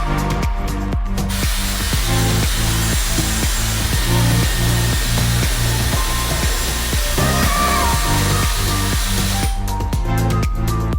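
A Dyson Airwrap hair styler blows hot air with a loud, steady roar, layered with a rhythmic mechanical pulsing throughout, close up and continuous.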